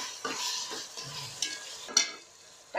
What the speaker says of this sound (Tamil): தக்காளியும் வெங்காயம் எல்லாம் வதங்கிட்டுப்பா.